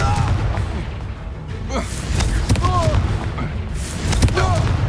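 Confringo blasting spells cast in Hogwarts Legacy, a run of sharp bursts and pops over busy combat noise, with shouted spell names heard throughout the fight.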